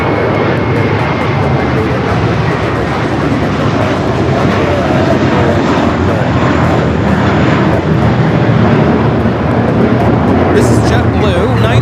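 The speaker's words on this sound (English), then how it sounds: "This is JetBlue 924 taking off the JFK on the A321." A JetBlue Airbus A321 jet airliner taking off from JFK produces a loud, continuous roar that holds steady throughout, with people talking over it.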